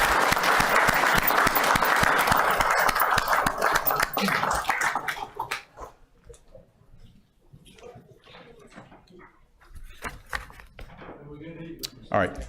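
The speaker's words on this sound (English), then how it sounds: "One more round of applause for the champions" Audience at a town council meeting applauding champions as they leave, loud sustained clapping that fades after about five seconds into scattered claps, light room noise and a few voices.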